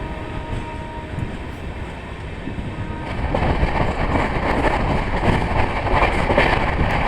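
The Azimabad Express, an Indian Railways train running from Ahmedabad toward Patna, rolls past the Vatva diesel loco shed with a steady loud rumble and wheel rattle that swells and roughens midway, heard from on board with no voices.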